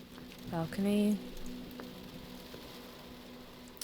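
Rain falls in the video game Sucker for Love as a soft, steady hiss under a brief tonal chime or voice-like note near the start, faint and continuous throughout.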